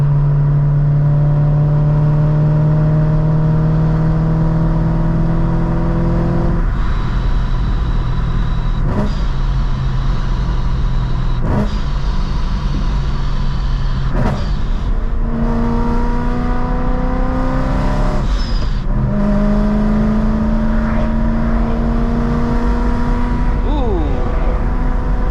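Procharged BMW M3 engine running under load while driving, with rising and falling rev sweeps and several gear changes, loud and continuous throughout with no talking.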